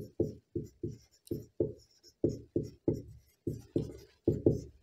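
Pen writing on paper during a Class 10 maths lesson, heard as a close, dry series of short scratchy strokes in an uneven rhythm, each stroke a brief rasp followed by a pause, with no talking.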